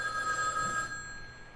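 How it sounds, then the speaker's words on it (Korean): An old black telephone rings with a bright, steady bell tone that sounds for nearly a second and then fades away into a quiet room, heard alone with no voices. "전화가 걸려왔는데 전화기 자체는 오래된 까만 전화기였습니다."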